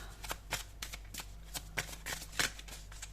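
Oracle cards shuffled close to the microphone, a quick series of crisp riffling bursts and soft slaps in an uneven rhythm, quiet overall with a faint steady hum beneath.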